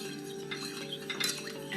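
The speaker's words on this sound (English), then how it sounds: "we're just gonna stir this until the gelatin is dissolved" A utensil stirring gelatin in liquid until it dissolves, with faint clinks and light scraping against the bowl over a quiet steady hum.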